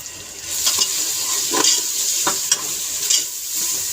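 Crushed coriander, cumin, black pepper and cloves roast in a pan, giving a steady sizzle with a few spoon scrapes and taps at intervals.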